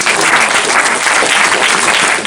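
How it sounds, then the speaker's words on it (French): A cosplay parade audience at the BNU library in Strasbourg applauds. The clapping is dense and continuous, loud and even from start to end, with no voices standing out. "Je vous propose d'applaudir aussi."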